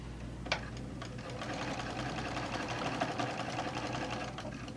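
A sewing machine stitches back and forth through flexible foam with a full quarter-inch seam while making a Noah's Ark soft toy. It gives a steady, close mechanical whir that runs unbroken throughout, with no talking.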